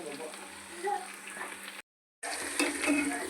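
Chicken pakodi sizzles and crackles in a pan of oil while being stirred, with soft scraping and a short silent gap midway; a voice speaks over the quiet frying.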